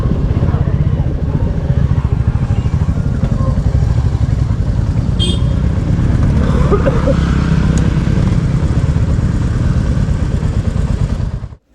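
A motorcycle rides along a mountain road near the Pelling skywalk with a loud, steady engine drone and road rumble close by, then cuts off abruptly at the end.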